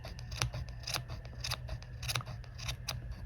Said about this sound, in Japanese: ハサミに当たったところだけ切るっていう感じでやっていきます